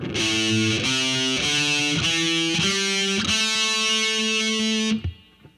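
Distorted electric guitar plays a pentatonic scale pattern in a heavy metal style, six sustained notes stepping upward one at a time, each rich in harmonics, loud and close with no talking, ending in a brief fade.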